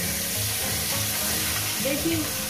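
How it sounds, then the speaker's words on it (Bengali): Fish skin pieces frying two at a time in hot oil with tender okra, a dense, close, continuous sizzle with faint clicks and brief tonal squeaks, and no talk. "আমি 2 পিস করে ভেজে নিচ্ছি।"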